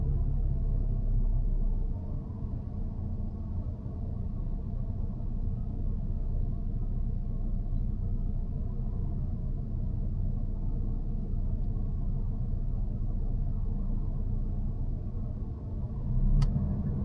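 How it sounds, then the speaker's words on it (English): Road traffic at a busy roundabout in Glasgow, heard from inside a car: a continuous low rumble of engines and tyres, steady and fairly loud throughout with no talk. "Plenty of cars coming from the right side"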